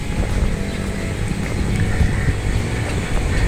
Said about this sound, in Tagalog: Medyo mahangin lang po, pasensya na po kung hindi po ganun kalinaw yung audio po natin.